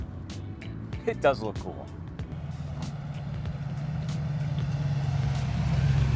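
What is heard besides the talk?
1978 Pontiac Trans Am driving past and turning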